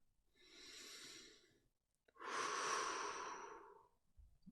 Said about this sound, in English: Take a few deep belly breaths.